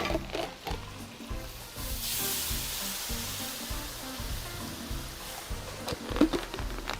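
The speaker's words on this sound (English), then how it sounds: "I heard the sizzle that time." Food sizzles steadily in a hot pan, a soft continuous crackle with small pops and occasional stirring sounds, no voices.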